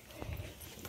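A mare's hooves clip-clop on the ground near a horse stable, a few soft low thuds over steady background noise in a short burst.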